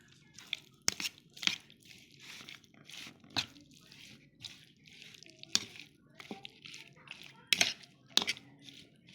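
Chicken being mixed by hand with turmeric, chili powder and salt gives soft, irregular squishing and slapping sounds, with occasional sharper clicks, all close and fairly quiet.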